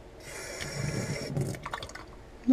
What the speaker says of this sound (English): Fill her up with some water.